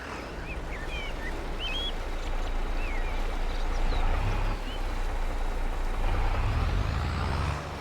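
A tractor drives in Farming Simulator 22, its engine a steady, loud low rumble and drone throughout, with hissing, squeaking mechanical noises on top and no talk.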